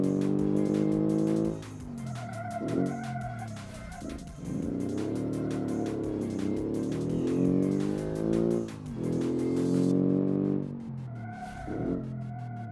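A 1987 hot hatchback engine revs and drops while its tires squeal and skid through handbrake oversteer on a test track, long wavering howls rising and falling over about thirteen seconds, loud and close, with no talking.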